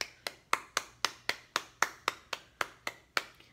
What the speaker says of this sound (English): Let's clap it out for our first book.